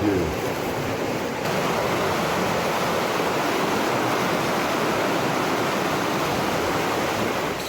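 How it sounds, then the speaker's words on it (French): Water rushing and churning through a canal lock as the level drops, a dense, steady roar of turbulent flow that stays loud and constant throughout, with no talking. "L'écluse a fonctionné. L'eau est apparue, l'eau a déjà descendu."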